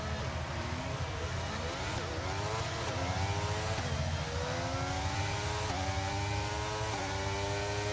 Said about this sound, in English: It sounds like a proper F1 car now.